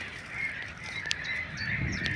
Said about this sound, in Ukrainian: оце чайки все кричать